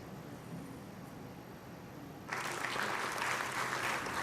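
A crowd at a Sindhu Darshan Yatra welcome event begins clapping partway through after a quiet, murmuring stretch, and the applause carries on steadily, moderately distant and soft.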